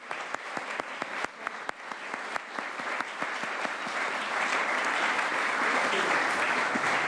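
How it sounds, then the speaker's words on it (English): An audience at a county volunteer recognition ceremony in San Diego claps in a sustained round of applause, sharp individual claps at first swelling into dense, continuous clapping. "Let's give one more round of applause for all of our volunteers today."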